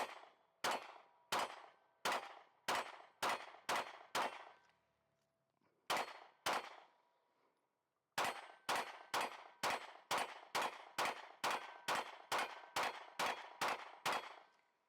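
Rapid pistol fire in tight bursts during a Magpul magazine endurance test, each shot a sharp, loud crack, with two short pauses between strings before a long steady volley.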